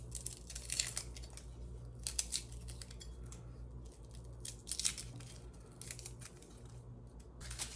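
Garlic cloves are cut at the base and rolled out of their papery outer skins, making dry crinkly rustles and brief snips in close bursts.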